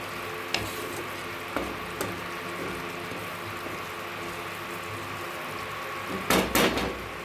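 Curry leaves tossed into fish frying in a pan give a steady, close sizzle and hiss, with a few sharp utensil clinks and a short burst of clattering toward the end.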